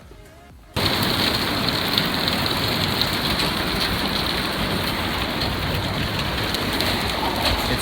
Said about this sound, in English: That was actually hail coming down, making all that noise.